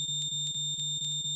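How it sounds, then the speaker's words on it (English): A fire alarm sounding nearby: a steady high electronic tone pulsing in rapid, regular beeps. "that's the fire alarm"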